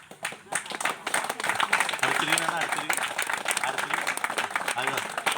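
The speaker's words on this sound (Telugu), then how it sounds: "ఈ పాపకు మీరు క్లాప్స్ కొట్టాలి" An audience claps for a young girl at a Christmas gathering, with dense, sustained applause filling the whole stretch while voices murmur underneath.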